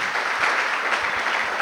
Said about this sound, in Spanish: ¿Le puedes dar un aplauso a Dios?